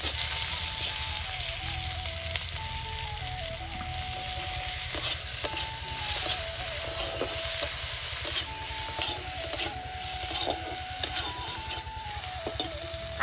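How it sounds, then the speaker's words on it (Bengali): Chopped onion, green chili and tomato fry in hot oil for a cabbage dish, giving a steady, dense sizzle throughout with faint stirring and scraping in the pan. "ওই তেলে দিয়ে দেবো পেঁয়াজ কুচি, কাঁচা লঙ্কা কাটা, টমেটো,"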